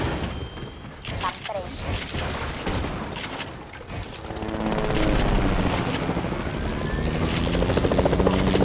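Helicopter in a video game, a rapid chopping rotor drone that grows louder and steadier in the second half, mixed with clicks, mechanical clatter and bursts of game effects.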